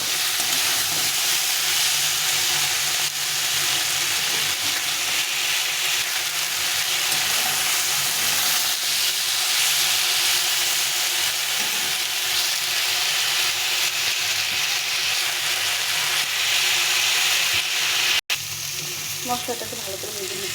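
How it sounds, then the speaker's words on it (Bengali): Ground chili, cumin and ginger paste fry with vegetables in very little oil, making a loud, unbroken sizzle and hiss with occasional stirring scrapes for about eighteen seconds, then a sudden drop. "এখন ভালো করে সবজির সঙ্গে কষে নিতে হবে"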